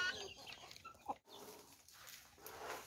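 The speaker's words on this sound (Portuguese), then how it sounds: "Olha o galo lá também" Faint clucking from chickens with a short rooster crow-like call, distant and quiet against low outdoor farm background noise.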